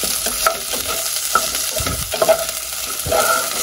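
Chicken pieces sizzle and fry in a hot pan with aromatics, a steady crackling hiss broken by stirring clatter and scraping, close and moderately loud, with no voices.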